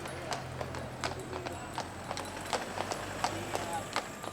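Steady clip-clop of horse hooves on a hard surface, evenly paced and moderately close, over a low background rumble, from horses pulling an 1887 horse-drawn tram around Lake Wendouree, Ballarat.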